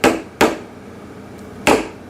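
Three close, crisp knocks as a child hammers a toy nail into a wooden toy tool bench. Two blows land in quick succession, then a pause before the third, and no one speaks.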